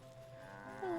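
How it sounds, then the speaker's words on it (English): A cartoonish cow in the video game Wytchwood lets out a single short moo near the end, rising over quiet game music, with no voice over it. "Hello, cow."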